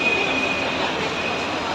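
A train rolls past close by, with a loud, steady rumble of wheels on rails and a thin high wheel squeal running through it, with no talk.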